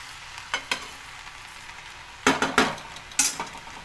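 Lentil and sugar puran cooks in a pot over medium heat under a faint bubbling hiss, with several sharp metallic clinks and scrapes from a spoon stirring, and no talking.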